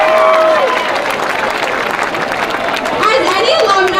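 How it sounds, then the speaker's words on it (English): A crowd at a high school homecoming football game gives a quick round of applause, clapping and cheering under a voice on the public address system, with chatter around. "Let's give him a quick round of applause."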